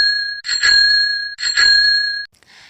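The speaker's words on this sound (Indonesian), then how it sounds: "bunyi bel sepeda termasuk bunyi buatan." Two bright double rings of a bicycle bell, each a quick trill of dings separated by a short pause, close and clear.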